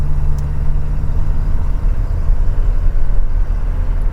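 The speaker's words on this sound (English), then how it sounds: "it has a straight pipe exhaust now. So that's the reason why it makes a lot of noise" A car with a straight pipe exhaust rumbles steadily nearby, a loud, deep idle drone that holds without letup and with no voices.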